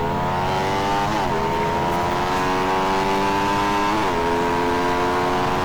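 Motorcycle engines, a Rusi Flash Super Loaded and a Sniper Super Loaded racing, hold a loud steady high-revving drone that dips briefly at two gear shifts and then climbs again, close and continuous with no voices.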